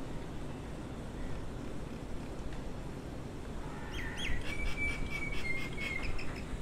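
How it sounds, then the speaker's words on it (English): Birds chirp and call at a Phuket resort, brief trilling notes rising over a steady breezy outdoor hum in the second half, moderately faint. "lots of beautiful bird and insect sounds everywhere you walk through the resort"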